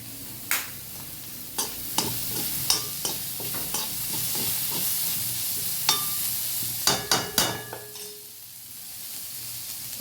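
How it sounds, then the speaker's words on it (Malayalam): Onions and curry leaves fry in a hot pan with a steady sizzle, broken by sharp spoon taps and scrapes as the mixture is stirred, close and fairly loud. "ഉള്ളി ഒന്ന് വാടി കഴിയുമ്പോൾ നമ്മൾ കറിവേപ്പില ഇടുന്നു."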